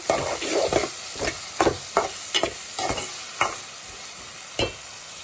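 Thinly sliced onions with green chillies and salt frying in oil for an egg and ridge gourd curry, a steady sizzle broken by repeated scraping stirs of a spoon at uneven intervals.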